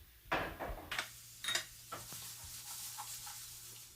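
Vegetables in a pan with Worcestershire sauce for Philly cheesesteak give a few faint scrapes and stirring knocks over a soft, quiet sizzle, with no talking.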